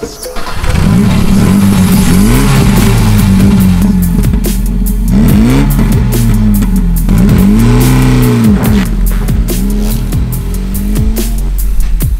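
A Ford Fiesta engine revs loudly and repeatedly as the car pulls away and accelerates, with rising and falling gear sweeps carrying on for about twelve seconds, close and continuous.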